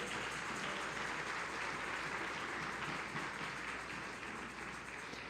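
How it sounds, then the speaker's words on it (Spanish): A church congregation clapping for the Lord during a service, a dense, steady wash of hand claps that is fairly faint and continuous, with no talk. "Dele palmas al Señor"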